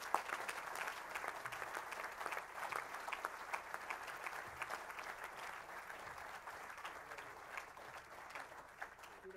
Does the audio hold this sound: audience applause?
yes